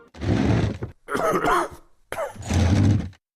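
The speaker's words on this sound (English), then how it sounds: "another bang on the awkward coughing and chairs scraping clip" Three close bursts of coughing and throat clearing, separated by short pauses.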